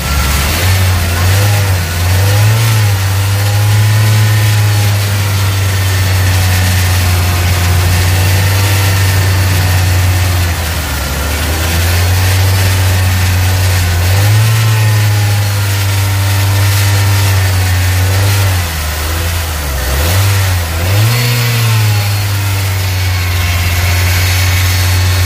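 2003 Honda Civic Dimension engine warming up while still cold: a loud, close idle rises repeatedly into revs and drops back down, several times across a long, steady stretch with no talking.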